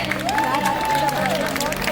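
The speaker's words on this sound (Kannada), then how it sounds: "ಸೊ ಬರಲಿ ಜೋರಾದ ಚಪ್ಪಾಳೆ" Loud audience applause and cheering at a Kannada music stage show tribute to Puneeth Rajkumar: dense clapping from a crowd, with a sustained voice-like tone rising and falling over it.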